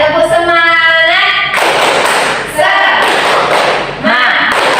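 A classroom of young schoolchildren performs a rhythmic group spirit clap, loud bursts of hand claps and chanting voices alternating with brief pauses, close and energetic.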